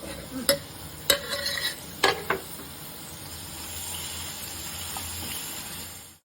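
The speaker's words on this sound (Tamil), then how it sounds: "அதனால இப்போ தக்காளியை போட்டுக்கலாம்." Tomatoes added to hot oil in a pan and stirred: a few sharp clatters of a spoon, then a steady close frying sizzle that continues alone.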